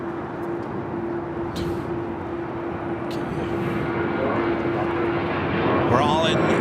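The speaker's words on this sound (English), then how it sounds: "I also have China Airlines A350 rocking and rolling down 24 left." China Airlines Airbus A350 rolling down runway 24 left at LAX, a steady distant jet rumble with a faint tone that slowly builds in loudness. Brief clicks and a voice come through near the end.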